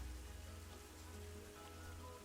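Soft rain patters steadily across the grounds of a Planet Zoo park, a faint, even wash of drops with no voices over it.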